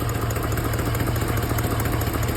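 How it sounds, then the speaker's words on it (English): A 2001 GMC Yukon XL Denali engine idling steadily after a transmission cooling line repair, recorded up close as a constant, even rumble with a faint rhythmic pulse and no voices. "Car's running right now."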